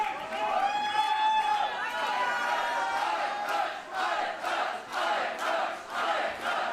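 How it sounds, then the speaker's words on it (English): Wrestling crowd at a GWF show roaring and shouting continuously during a match, a dense, loud wash of voices with pulsing swells toward the end. "Crowd are trying to help Aytac"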